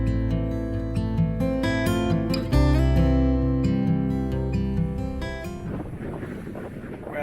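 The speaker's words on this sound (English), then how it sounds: "Very windy day today." Strong wind buffets the microphone in a steady roar under a droning 4WD engine that fades toward the end, on the Canning Stock Route desert track.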